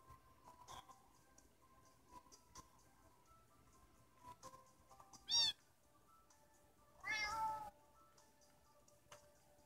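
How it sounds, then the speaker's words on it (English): A cat in the Minecraft video game gives two distinct meows, a short one and then a longer drawn-out one, over a quiet background of faint clicks and soft game noises. "Difficulties with our cat."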